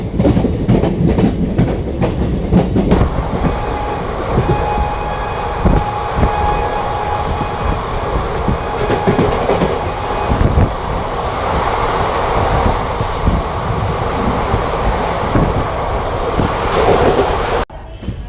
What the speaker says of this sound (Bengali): ট্রেন এখন স্লোলি দমদম জাংশন স্কিপ করছে।